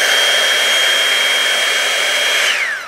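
Revlon One Step Air Straight hot air styler running on its fan setting gives a loud, steady whine, then winds down in pitch and fades as it is switched off near the end.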